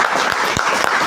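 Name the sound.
audience applause for the MD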